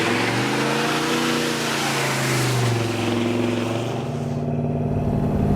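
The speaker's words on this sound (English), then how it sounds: "Car's running good." A Ford Ranchero drives along the road, its engine droning steadily with a gently shifting pitch, loud and close, from inside the vehicle with no talk.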